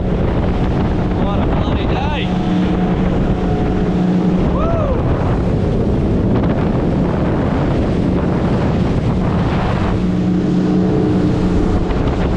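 A small fishing boat cruises across an inshore bay off an island, its engine droning steadily throughout with heavy wind buffeting the microphone and water rushing along the hull.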